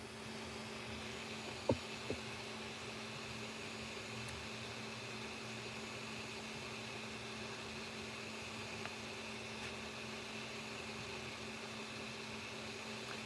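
A 3D printer printing magazines runs with a steady, even whir and hum throughout, broken only by a couple of faint clicks near the start.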